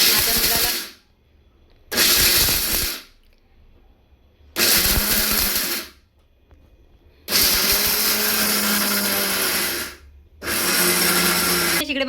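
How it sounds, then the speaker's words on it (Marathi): A mixer grinder pulverises dry fruits and makhana in five loud, whirring pulses separated by short quiet gaps, each burst a harsh roaring hiss starting and stopping abruptly. "जेवढे पण ड्रायफ्रूट आहेत ना ते मी एकत्र मिक्सरमधून बारीक करून घेणार आहे"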